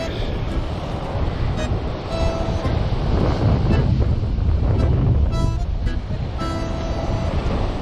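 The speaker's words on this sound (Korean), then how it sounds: "오늘 날이 아닌가 파도가 너무 센데" Strong wind buffeting the microphone over the steady rush and crash of rough sea waves on the East Sea coast of Korea, loud and continuous.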